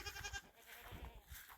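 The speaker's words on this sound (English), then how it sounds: "goats." Goats bleat in short, nasal bursts nearby in a shop setting, a few overlapping calls at moderate level with no talk.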